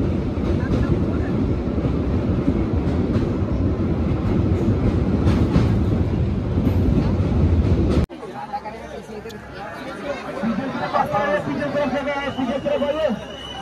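A very long train rumbling along the tracks, heard from on board, with a loud, steady roar and faint clatter, then a quieter, hollower passage, with voices chattering in the background.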